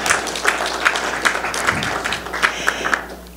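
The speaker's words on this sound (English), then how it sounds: "Give a big round of applause to Bausch & Lomb" Scattered, light applause from an optometry conference audience in Las Vegas, honoring a sponsor; a few distinct claps stand out at a loose, steady pace over a soft, continuous patter.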